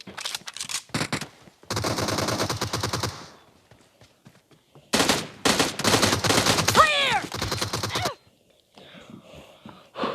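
Video game gunfire rattles in loud bursts of rapid automatic fire, separated by short pauses and a few single shots, close and dominant throughout.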